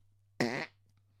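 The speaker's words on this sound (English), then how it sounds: "So here's a fart." A single wet, buzzy fart blown through a bubble of chewing gum, loud and close, lasting about a quarter second over a steady low hum, then falling quiet.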